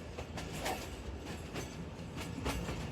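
Sialkot Express passenger train running along the rails through countryside, a steady close rumble of wheels with faint rhythmic clicks over the track and no voices.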